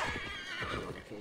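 A winged horse in Assassin's Creed Valhalla lets out a brief whinny, quiet and alone, with no talk over it.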